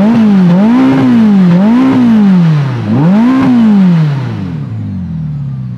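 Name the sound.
Ferrari SF90 engine revving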